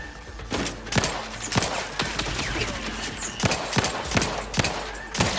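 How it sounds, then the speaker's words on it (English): Gunfire shootout in the video game Outer Worlds 2, with loud rapid bursts of shots cracking in irregular clusters over a constant background din, close and punchy throughout. "Shoot our way through!"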